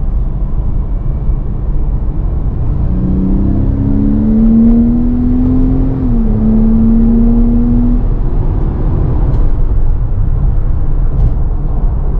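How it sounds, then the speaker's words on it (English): Heard from inside a closed Porsche 911 with a Fister exhaust, the engine drones loudly under road noise, its pitch climbing smoothly for a few seconds as the car accelerates. "step on it and see if you guys can hear the engine sound"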